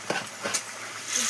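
Fish curry is stirred in a pot on a clay stove, with a few scraping knocks of the spoon against the pot over a low, soft sizzle.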